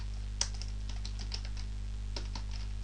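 Light computer keyboard typing, a series of quick separate key taps with short pauses over a steady low electrical hum, close and fairly quiet.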